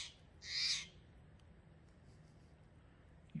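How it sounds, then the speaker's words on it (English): A single loud, harsh bird call rings out outdoors early in the morning at a campsite, followed by quiet ambient stillness and a faint click at the end. "You see that bird, Daisy?"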